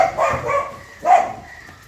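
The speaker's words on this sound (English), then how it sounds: "dog and cat fight is going on." A dog barks during a dog and cat fight, two sharp barks heard close and loud, the second after a short pause.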